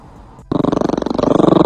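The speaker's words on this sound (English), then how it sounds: "This dog does not like small food" A dog lets out a sudden close growl that pulses in rapid rough bursts, swelling louder toward the end after a brief quieter moment.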